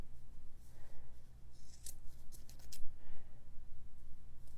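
Scissors snipping through yarn tassel loops on a crochet shawl, a quick cluster of crisp metallic cuts near the middle over a steady low room hum, with no talk.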